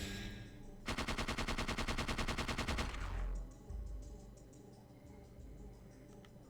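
Sustained automatic gunfire from the video game Parasite Eve II, a loud rapid burst of evenly spaced shots lasting about two seconds, then cutting off into quieter ambient game sound.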